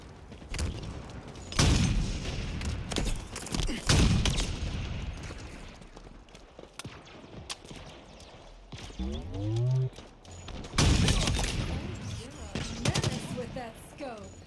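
Gunfire in an online shooter game, several separate bursts of loud rapid shots spaced through the stretch, with a quieter background between them.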